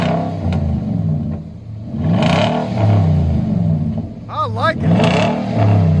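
A Nissan Titan 5.6L V8 with an aftermarket exhaust, its engine droning and swelling in revs close by, with someone speaking briefly over the rumble.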